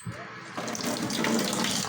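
Tap water runs into a sink as a razor blade is rinsed under the stream, with a steady close splashing rush that swells after a brief start.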